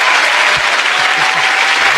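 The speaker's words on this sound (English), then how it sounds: "let me get that man a clap" Dense, steady applause fills the whole two seconds at an even, loud level, like a ready-made clap effect dropped into a podcast about making beats, with no voices over it.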